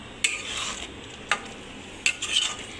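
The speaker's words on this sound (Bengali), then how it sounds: "এবার দিয়ে দেবো কিছুটা কোচানো ধনেপাতা। এটা দিয়েও ভালো করে মিশিয়ে নেব।" Pav bhaji with chopped coriander is stirred in a pan, with a soft background sizzle broken by three or four sharp spatula scrapes and clinks, and no voices.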